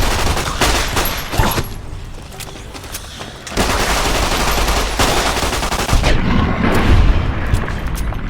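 A gun fires in Fallout: New Vegas in loud, dense bursts of rapid shots with booming impacts, briefly thinning before the barrage resumes.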